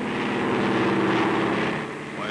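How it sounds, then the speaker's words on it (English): A propeller airplane drones steadily overhead, a dense continuous engine hum filling the scene and easing slightly at the end, with no voices heard. "Why, it's a plane."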